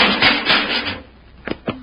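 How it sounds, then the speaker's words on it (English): A radio-drama sound effect of a door pulled shut and its bolt thrown: a scraping slide first, then two sharp, close knocks in quick succession, loud and with no voices. "Pull that door shut and throw the bolt."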